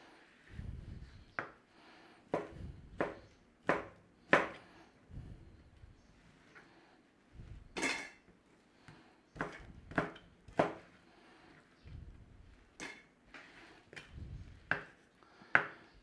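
A knife chops a lump of bacon into squares on a board, giving about a dozen sharp, close, uneven knocks in short clusters with brief gaps between them.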